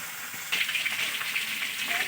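Potatoes sizzle and crackle in hot oil in a pan, a brief steady frying hiss.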